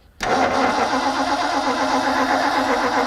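A big-block 1964 Ford Galaxie, a junkyard car with a four-speed, fires up after brief silence and settles straight into a loud, steady rumbling idle, close by with no voices.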